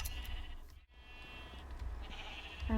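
Sheep bleating in the Minecraft video game, a crowd of many animals making drawn-out bleats that overlap steadily against a constant game background.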